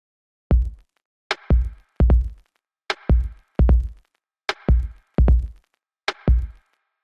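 Halftime drum beat built from a kick drum and a snare drum, with punchy, evenly spaced hits in a slow two-part pattern over about seven seconds and no other sound.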